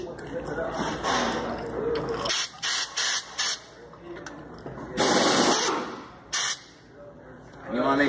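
A pneumatic tire bead breaker works on a tire, loud bursts of compressed-air hiss in short repeated blasts and longer gusts, with a voice talking in between.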